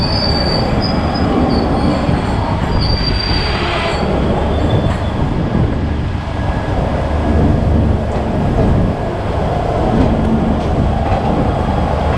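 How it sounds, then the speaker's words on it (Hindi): A Garib Rath passenger train rolls out of Ballarshah station and picks up speed, filling the space with a loud, continuous rumble of wheels on rails, metallic squeals and faint clicking from inside the carriage. "फाइनली ट्रेन हमारी बलहड़शाह से रवाना हो चुकी है"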